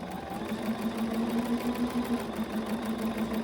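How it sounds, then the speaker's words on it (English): A sewing machine runs steadily, stitching the top and bottom seams of a pre-cut fabric face mask, with a continuous motor hum and rapid needle rhythm, close and alone. "So I'm just going to sew that top and bottom"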